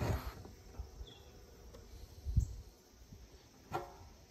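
Honeybees hum faintly from an opened hive box during an Apiguard treatment, a soft, steady low buzz with a few brief louder swells and no talking.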